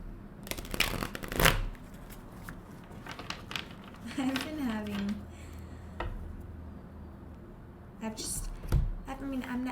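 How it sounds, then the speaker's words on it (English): Tarot cards being shuffled by hand during a love reading, soft papery riffles and slaps coming in bursts with quiet pauses between them, close and fairly faint, alone without talk. "I've never been the best shuffler"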